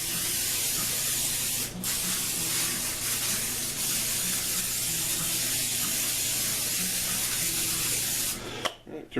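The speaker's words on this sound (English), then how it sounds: "I'm just going to spray Pam on it" Long continuous hiss of Pam cooking spray misted over an oiled turkey, a close, steady spray lasting several seconds before cutting off with a small clatter at the end.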